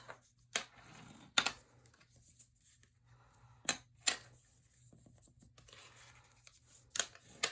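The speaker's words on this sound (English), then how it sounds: "We're going to cut out a little triangle." Scissors cutting a small triangle out of paper, a handful of sharp, separate snips spaced irregularly over quiet room noise, close by and without speech.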